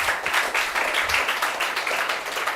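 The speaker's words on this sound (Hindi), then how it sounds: "तालियां भी बच्चों के लिए" Applause from a crowd for the children at a CUET-ICAR 2025 selection ceremony in Dausa district, a dense, steady patter of many hands clapping throughout, moderately loud and without talk.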